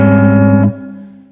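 A guitar strums a major 7th chord with a natural 4th added, a dissonant, ringing chord that sounds loudly, then drops sharply and decays, recorded close.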